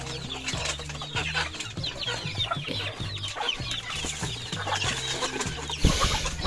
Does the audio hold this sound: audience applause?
no